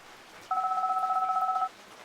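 A cell phone gives a steady two-tone electronic beep lasting about a second, clear and alone over a faint background hiss.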